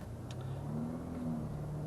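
A 2021 Volvo S60 driving on the road, a smooth steady engine and tyre hum from inside the cabin with a slight rise in pitch as it accelerates, alone without talk.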